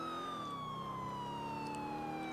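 A steady wailing police siren in the video game GTA IV slides slowly downward in pitch, loud and continuous with engine rumble beneath, no voices.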